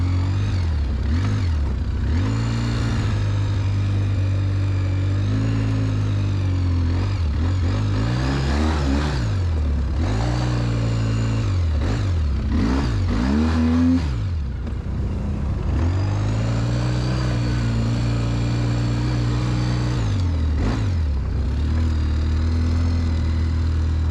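A car engine revs hard again and again, the pitch climbing and dropping repeatedly, loud and close, while the vehicle drives off and keeps pulling through a long stretch of hard acceleration.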